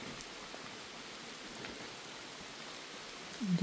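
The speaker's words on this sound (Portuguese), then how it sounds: "E chuva." Steady rain falls at a church sanctuary, a constant hiss of drops on surfaces that holds even and unbroken throughout, with a slightly louder swell at the very end and no voices.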